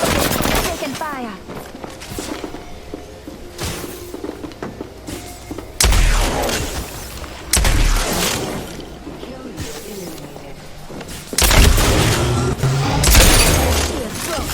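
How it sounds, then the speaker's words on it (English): Gunfire in the tactical shooter Rainbow Six Siege: repeated bursts of shots and heavy impacts in a close firefight, loud and irregular, with brief blasts around the middle and end mixed with game noise. "I'm taking fire."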